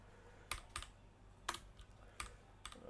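Someone types on a computer keyboard while writing Python code, a few crisp, separate key clicks spaced unevenly and heard close up in a quiet room.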